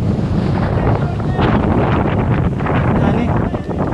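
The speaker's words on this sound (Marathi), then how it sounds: "आम्हाला इथं आता खतरनाक वारा आहे" A strong wind roars and buffets against the microphone on the Gorakhgad fort mountain trek, a loud continuous rumbling gust throughout with no clear speech.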